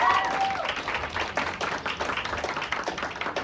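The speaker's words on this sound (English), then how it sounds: "Can we just give a round of applause to the BYOB staff?" A crowd applauds the staff at a BYOB poetry open mic event, a dense, steady wash of clapping from many hands that carries through the whole stretch, with some faint voices mixed in.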